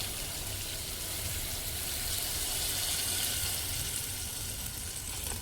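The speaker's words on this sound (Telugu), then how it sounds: "చూడండి వాటర్ పోస్తున్నాను" Steady rush of water pouring continuously into a pan for an eggplant and dried fish curry, a broad hissing wash with no talking.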